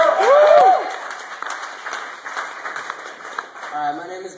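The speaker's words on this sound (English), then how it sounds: "another round of applause for Troy Osaki." Crowd at a youth spoken-word poetry reading clapping, a moderate steady patter with a whoop at the start, thinning out as a voice begins speaking near the end.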